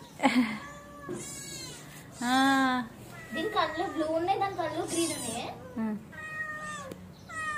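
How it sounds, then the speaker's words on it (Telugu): A big cat and a small kitten meow repeatedly at close range, a mix of drawn-out, wavering cries and shorter mews, with a voice speaking softly in between. "పెద్ద పిల్లి చిన్న పిల్లి."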